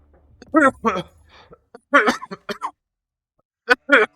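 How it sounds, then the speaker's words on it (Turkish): A man coughs and clears his throat a few times while gaming, short harsh bursts close to the mic, with him talking in between. "Hmm, ah ne öksürüm be."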